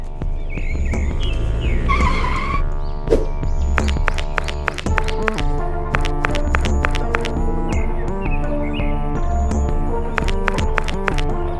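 A car's tires screech as the driver brakes suddenly and hard, a rising squeal near the start, followed by a busy stretch of clattering, rhythmic knocks and scattered sharp hits.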